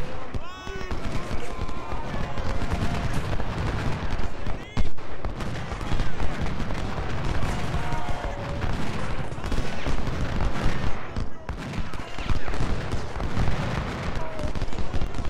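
Massed musket volleys from Civil War infantry in Ultimate General: Civil War, a dense, continuous crackle of overlapping shots with battlefield din throughout, a voice talking over the firing.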